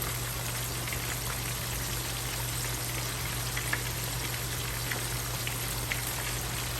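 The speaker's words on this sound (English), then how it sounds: "So I'm gonna let this fry up" Chicken pieces for a wrap frying in hot oil at medium-high heat, a steady dense sizzle with small crackling pops, continuous and fairly close, with no talking.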